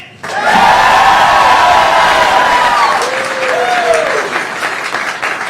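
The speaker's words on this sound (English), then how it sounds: "What a great crowd tonight." A large crowd at a governor's election-night victory speech bursts into loud, sustained applause with cheers and whoops, holding steady for several seconds with no talking.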